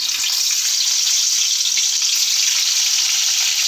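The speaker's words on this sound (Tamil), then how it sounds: "இந்த கண்டங்க நம்ம வறுத்து எடுத்துக்கலாம் எண்ணெயில்" Dried fish fries in hot oil in a home kitchen, giving off a dense, continuous sizzling hiss. The sound is close and loud and holds steady throughout, with no talking.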